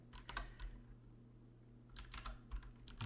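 Typing on a computer keyboard in short bursts of close, crisp key clicks separated by a brief pause, over a low steady electrical hum.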